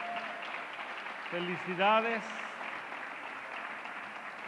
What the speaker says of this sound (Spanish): Les damos un aplauso a las mamás